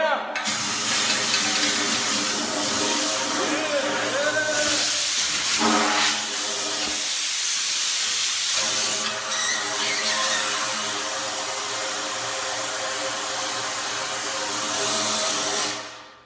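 Compressed air hisses steadily as it blows filings out of a freshly filed turbo pipe on a junkyard turbo Hemi build, a loud continuous rush with brief dips and breaks before resuming for several seconds.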